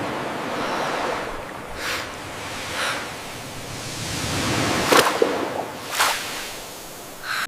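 Ocean waves and surf in an AI-generated scene of a person surfing, a steady wash of broadband noise with several sharp whooshing swells breaking through, no voices.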